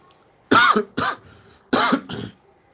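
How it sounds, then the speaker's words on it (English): Two pairs of harsh, close coughs, each pair a strong burst followed by a weaker one, separated by a short silence. "Just having a little cough."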